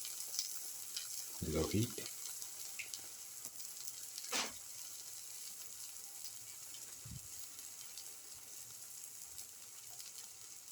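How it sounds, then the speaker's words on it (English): A black pepper winter melon omelette fries in a pan over low heat with a steady, close sizzle throughout, broken by a few brief stirring knocks. A voice says a short phrase. "let it fry for another 1 to 2 minutes"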